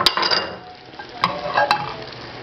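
Spoon stirring a pot of chicken curry with green and red pepper and celery, a few soft scrapes and clinks over a gentle sizzle, close and fairly quiet with no talk.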